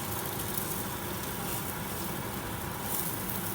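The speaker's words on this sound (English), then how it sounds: "I'm now going to turn over the egg and let the other side as well cook." An egg frying in a pan after being flipped, with a steady, even sizzle of hot fat that holds at a constant moderate level throughout, with no voices.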